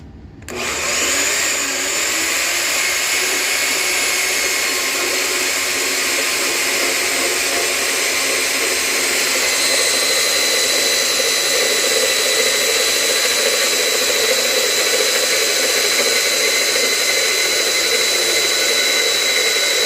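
A power cutter bites into a gun barrel, cutting it down to 18.5 inches. A loud, steady high-pitched whine starts abruptly and holds unbroken for nearly twenty seconds, with no voices over it.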